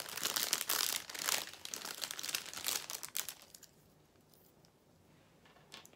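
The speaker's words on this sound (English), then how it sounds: "Excuse the crinkling." Plastic packaging crinkles loudly and close up as buckles are unwrapped, in bursts of crackling for about three seconds before fading to quiet with a last small rustle.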